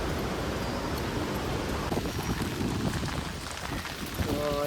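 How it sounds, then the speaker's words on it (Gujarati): Heavy monsoon rain pours down steadily in Surat, a dense, even hiss that fills the clip from start to finish, close and loud, with no speech over it. "વરસાદ બહુ વધારે સ્ટાર્ટ થઈ ગયો છે"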